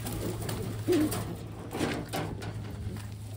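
A Taiwan pigeon coos softly once or twice, close by, over a steady low hum and faint background noise.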